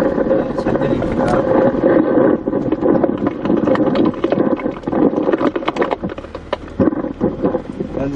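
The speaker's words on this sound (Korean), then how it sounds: "현재 이 소리는 녹음기를 집어넣는 소리입니다." A voice recorder pushed down a hand-dug borehole in the Gyeyang area of Incheon: loud, close, continuous rough scraping and rubbing with irregular knocks, filling the whole stretch.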